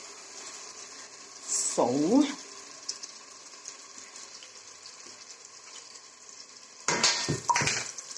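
Blended tomato, red pepper, garlic and ginger is poured into a simmering spinach stew, giving two brief wet splashing bursts over a steady background sizzle; a voice says a single word.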